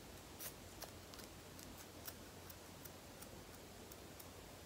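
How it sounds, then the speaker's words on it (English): Scissors cut through a wig cap while a straight bob wig is installed, giving a handful of faint, crisp snips spaced irregularly over a quiet background, with no talking. "I'm gonna go ahead and cut the rest"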